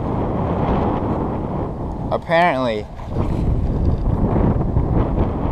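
Strong wind in Everglades National Park, Florida, buffets the microphone in a continuous roar, briefly broken by a single spoken word midway.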